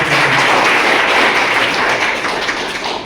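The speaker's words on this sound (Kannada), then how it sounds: "ನಾವು ನೀವೆಲ್ಲ 3 ಜನ ಮಧ್ಯಸ್ಥಗಾರರಿಗೆ ಚಪ್ಪಾಳೆ ಹೊಡೆದ ಮುಖಾಂತರ ಗೌರವ ಸಲ್ಲಿಸಿದ್ದೇವೆ" Applause from an audience honoring three mediators at a training event, dense steady clapping throughout that eases slightly toward the end.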